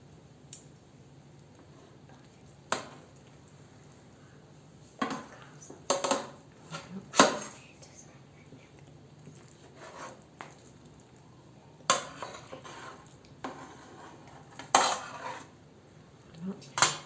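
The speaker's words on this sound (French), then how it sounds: "je vais retourner les baklava" Rolled baklava being turned over in a metal pan, heard as scattered clinks and taps of a utensil against the pan, with soft squishy handling sounds between them and quiet gaps.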